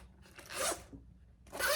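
A zipper on the front pocket of a Rosie & David crossbody bag runs in two quick rasping pulls separated by a short pause, close up and clear, with no talking.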